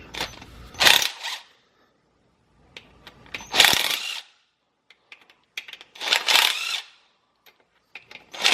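T40 Torx screws are backed out of the mechatronics unit of a BMW E90 3 Series transmission, making several separate bursts of metallic ratcheting and clicking broken up by short quiet gaps.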